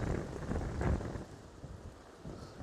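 Strong wind in Salcombe, England buffets the microphone with low, rumbling gusts, heavier at first and then easing slightly, with no voices.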